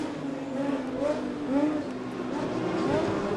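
A race car engine hums and rises in pitch as it passes during a BMW Performance 200 race, moderately loud and steady, with broadcast commentary mixed in.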